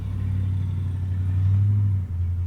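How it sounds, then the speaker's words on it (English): A rickety car passes nearby with a steady low engine rumble that swells slightly in the middle and then dips briefly near the end. No voices are heard over it. "Who's a rickety car?"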